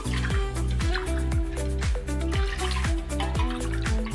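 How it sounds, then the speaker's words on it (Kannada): Three glasses of water pour steadily into a pot, with a bubbling, glugging rhythm of repeated falling-pitch gurgles as it fills; no voices. "3 ಲೋಟ ನಾನು ನೀರು ಹಾಕ್ತಾ ಇದ್ದೀನಿ."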